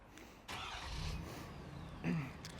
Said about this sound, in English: a Roush DPF back exhaust. Let's have a listen to that.